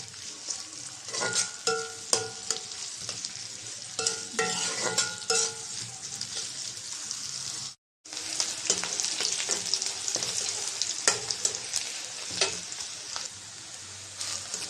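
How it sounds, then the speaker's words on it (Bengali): Onion, garlic and green chilli frying in hot oil give a steady, close sizzle with scraping stirs, briefly cutting out midway before the crackle resumes; no one talks. "তেল দিয়ে দিলাম। পেঁয়াজ, রসুন, কাঁচামরিচ ভেজে নেব।"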